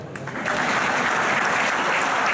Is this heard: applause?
yes